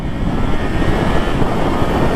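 Kawasaki Z H2 supercharged motorcycle engine accelerating hard, a loud, steady, dense roar with wind rush and no talk.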